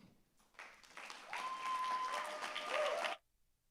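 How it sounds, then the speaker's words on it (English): A TEDx audience breaks into applause for a speaker, quiet at first, then a steady sustained patter that cuts off abruptly near the end, heard at a distance with a faint tone running underneath. "Please give a warm round of applause for Yoshira"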